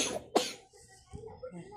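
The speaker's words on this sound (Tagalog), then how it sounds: "Ay, ubo." A single short cough cuts through quiet room noise, with faint small sounds around it.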